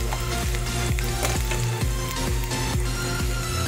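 Dried fish (daing) frying in hot oil, a dense steady sizzle with recurring low thumps and scrapes of stirring, close and loud without any talk.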